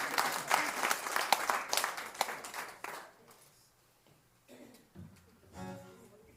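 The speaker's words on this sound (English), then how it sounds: "That was their cue to clap for these guys." Audience clapping at a small studio music night, a burst of applause that fades after a few seconds, followed by faint scattered sounds and low murmurs.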